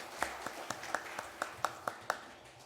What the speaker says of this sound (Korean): 다시 한번 하나님께 감사의 박수